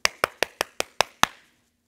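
Seven crisp hand claps in steady succession, close and loud, from a pre-kindergarten children's rhyme with hand motions, ending in quiet.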